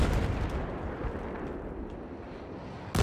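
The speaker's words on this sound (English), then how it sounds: "And here comes the rocket artillery." Rocket artillery barrage in a 10vs10 Conquest match on the Zavod map, a dense continuous roar of rumbling blasts close by, with a fresh heavy impact at the very end.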